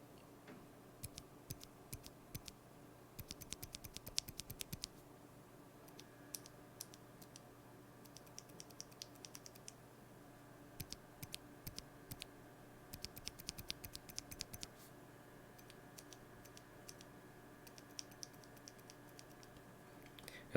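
Quiet, close typing on a keyboard fitted with lubed, unfilmed Alpaca v2 switches, bursts of soft clacky keystrokes separated by short pauses, with no talking.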